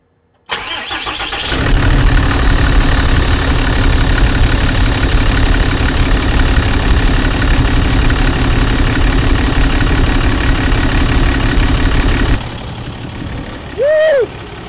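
A Cummins diesel engine cranks and starts, then idles loudly and steadily for about ten seconds before dropping to a quieter level, with a brief whistle-like sound near the end.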